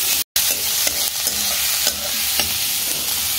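Garlic, ginger and chili fry in a pan as potatoes are stirred in, with a continuous close sizzle broken by scraping strokes of a spatula at irregular intervals, and no talking.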